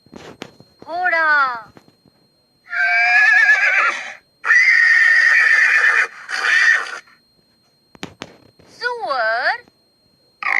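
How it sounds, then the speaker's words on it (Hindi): A horse neighs and whinnies several times in loud, close bursts with wavering pitch, separated by short silent pauses, with no talking. "घोड़ा"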